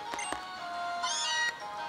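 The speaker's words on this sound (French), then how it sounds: "Oh, des Miaous." Meowth's cry from the game Pokémon Ultra Sun, a short synthetic cat-like meow that rises in pitch, heard close and fairly loud over a steady electronic game background with a couple of brief clicks.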